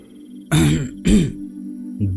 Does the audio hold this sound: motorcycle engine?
no